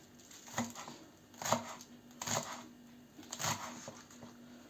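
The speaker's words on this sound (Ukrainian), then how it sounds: "Я дрібонько наріжу її." A knife chops green onion on a cutting board in four distinct strokes, evenly spaced and close, with quiet pauses between each cut.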